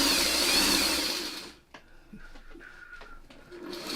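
A sewing machine stitching quilt pieces runs in a fast, steady whir for about a second and a half, then stops, followed by faint clicks and handling noises close by.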